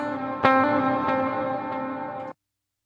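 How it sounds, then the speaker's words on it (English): An electric guitar strummed through an HX Stomp with long-decay reverb, one bright chord ringing out with a couple of lighter re-strums, sustaining smoothly until it is cut off abruptly into silence. "So when I strum, so let me do just a reverb with a lot of decay."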